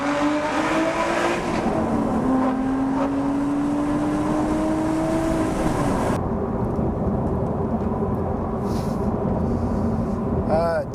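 A Lotus Evora GT430 accelerates hard on a public road, its engine loud and close with a rising tone that climbs through the revs before a gear change, over steady road and wind roar.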